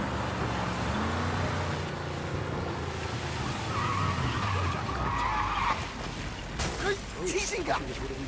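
Car in Mafia Definitive Edition revving and accelerating with a steady low engine drone, then tyres skidding and squealing in a rough burst near the end, with someone talking over most of it.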